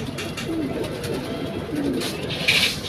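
Soft, low coos from Rampuri pigeons come twice over a steady outdoor background hiss, close and fairly quiet.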